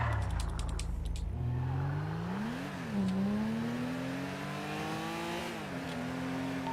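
Close car engine revving hard with no speech: a steady low drone that climbs in pitch, eases back, then rises again in repeated surges over several seconds.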